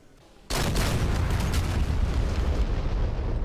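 A bomb detonates on a ground target in the DCS Mirage 2000C flight simulator, bursting in suddenly after a quiet cockpit hum and then rolling on as a loud, sustained broadband roar.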